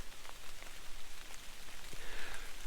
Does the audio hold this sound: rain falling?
yes